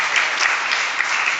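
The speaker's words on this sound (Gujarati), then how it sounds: "એને એકવાર જોરદાર તાળી નથી વધાવો ભાઈ." Audience claps warmly for Jigar Bhagat at a devotional gathering, a dense, even wash of hand-clapping from a crowd lasting the whole moment with no voices over it.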